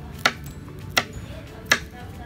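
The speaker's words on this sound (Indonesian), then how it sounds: "Kita potong ini cabai rawitnya biar mantap" Knife chopping bird's eye chilies on a cutting board: three sharp, evenly spaced chops about 0.7 seconds apart, close and crisp, over a low background hum with no talking.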